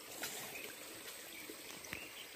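Cold water flows steadily on a farm, a continuous close rushing and trickling wash with small splashes and no talking.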